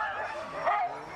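A large, fluffy dog gives a short, whiny yip-like bark, close and fairly clear, over a faint background.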